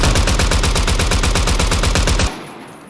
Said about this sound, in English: So when you're shooting,